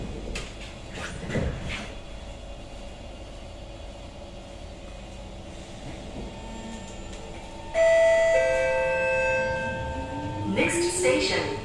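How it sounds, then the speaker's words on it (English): An SMRT train door-closing chime on the KHI C151 stock between Bukit Gombak and Bukit Batok sounds as a loud, close electronic tone sequence partway through, over steady cabin rumble and scattered clatter. "Doors are closing."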